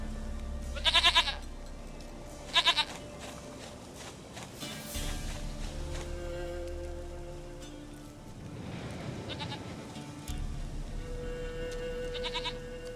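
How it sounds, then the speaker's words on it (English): Goat bleating in The Witcher 3: Wild Hunt, two short nasal bleats near the start over a steady game ambience with soft rain-like hiss and background music, no speech. "Goat of mine, dearest, sweetest goat."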